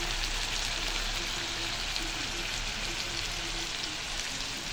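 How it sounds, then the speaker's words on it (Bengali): Fish fries in a pan in a home kitchen, giving a continuous, even sizzle that hisses steadily from start to finish at moderate volume. "আমার মাছ ভাজা"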